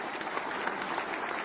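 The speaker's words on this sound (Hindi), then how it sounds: "सभी के लिए एक बार जोरदार तालियां" Audience applause at an official ceremony distributing appointment letters to selected junior engineers, computer operators and foremen, a steady, fairly quiet patter of many hands clapping throughout.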